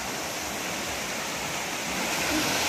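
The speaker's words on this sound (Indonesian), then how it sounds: "Deras sungainya." A fast-flowing river rushes in a steady, full wash of water noise close by at a hillside resort, unbroken and without voices.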